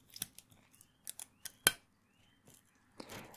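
Plastic utensils cut a slice from a microwave omelette made with rubbery, hard cheese, giving several close, quiet snips and taps in an uneven rhythm. A louder scrape near the end trails into soft rustling.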